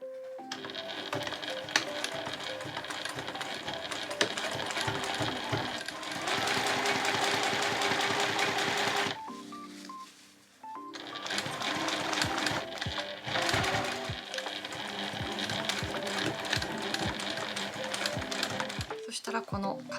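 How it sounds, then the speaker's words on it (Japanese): A sewing machine stitches an add-on zipper onto a travel sub-bag being remade into a two-way backpack, running in loud, steady rapid bursts with a brief pause midway, then resuming. "そしたら反対側も同じようにして縫っていきます。"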